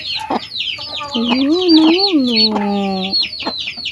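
Two mother hens cluck close by while a brood of newly hatched chicks, their third batch, peep in a steady high chorus, with one drawn-out, wavering hen call rising above the chirping.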